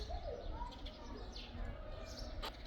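Small birds chirp faintly outdoors, a few short high calls over a steady background murmur with a possible cooing note, all fairly quiet.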